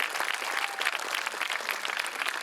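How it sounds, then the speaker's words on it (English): Audience applauding children at a school event, steady dense clapping from a large crowd throughout, fairly close and sustained without a break. "A huge, huge round of applause for them."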